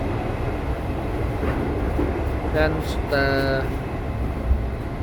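Interior rumble of a KRL commuter train riding toward Sudirman in Jakarta, a steady low roar with faint rail clatter and a brief tonal squeal or chime midway, with a voice speaking over it.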